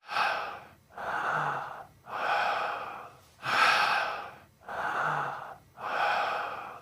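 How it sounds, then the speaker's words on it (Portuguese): Heavy, rhythmic breathing, six long rasping breaths with short pauses between them, close and fairly loud, with no other sounds and no footsteps evident. "esse áudio, supostamente, seria os passos e a respiração de uma entidade"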